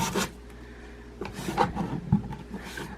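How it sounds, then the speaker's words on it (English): Hand sanding with sandpaper on a distressed piece, a few short rough rubbing strokes in bursts separated by brief pauses, close and fairly quiet. "Let me get some sandpaper."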